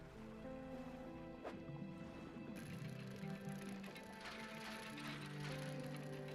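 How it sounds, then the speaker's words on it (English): A dredging mechanism in a video game winds with a continuous ratcheting, gear-like clicking. The sound is quiet and steady and runs for the whole stretch, with no one talking over it. "We do a little dredging."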